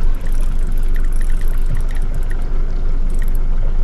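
A fishing boat's engine hums steadily with the throttle nudged up slightly, with water washing and splashing close by and no talk.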